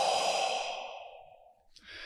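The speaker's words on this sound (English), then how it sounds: "Also, you want to be doing your deep breathing." One deep, slow breath ending in a long, audible exhale that trails off, close and clear, then a short fresh intake of air at the end, with no talking.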